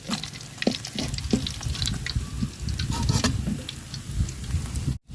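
Potatoes frying in oil left over from frying fish give a loud, close sizzle with bursts of crackle and the scrape of stirring, ending in a sudden brief break.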